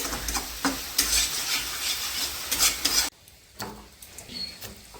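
Masala spices with black pepper fry in a pan while a utensil stirs and scrapes through them, loud rhythmic scraping over sizzling that suddenly drops to quieter, sparser stirring.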